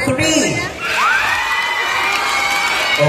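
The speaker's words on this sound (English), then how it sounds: "please make us hear your claps or your cheers" Supporters of candidate number 3 cheer and shout at a school awards event, a loud burst of high-pitched crowd screams and whoops that holds steady for a few seconds.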